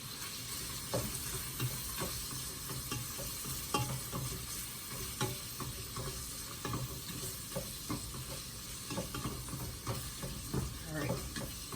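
Ground beef with seasonings browns in a pan, giving a steady sizzle broken by repeated scraping stirs at an even rhythm.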